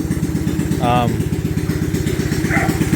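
A Manco Intruder minibike with a Tillotson 212 engine putters loudly and close in a fast, steady rhythmic chug, idling or riding slowly, with a voice speaking briefly over it.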